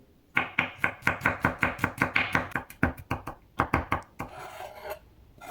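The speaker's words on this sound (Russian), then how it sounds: "2 зубчика чеснока придавливаю сначала ножом" Garlic cloves minced with a kitchen knife on a board, a close, steady run of sharp chopping strikes in quick rhythm, slowing into a few scattered cuts and a soft scrape at the end, with no talking.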